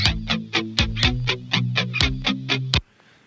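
A guitar direct signal, low end cut, mid-range boosted, with flanger and distortion, plays a rapid palm-muted rhythm of about a dozen choppy buzzing hits with a sweeping whooshy tone, then stops abruptly into near silence.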